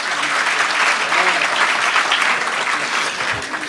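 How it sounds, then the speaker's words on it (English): A loud, dense round of audience applause at a primary school summit, many hands clapping steadily and close, then tapering slightly toward the end. "Another round of applause."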